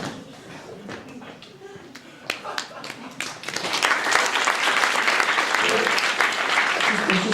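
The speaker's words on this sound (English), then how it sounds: "Let's just golf clap that." Scattered audience claps build from sparse, uneven pops into a steady, dense patter of applause that holds through the end, moderately close.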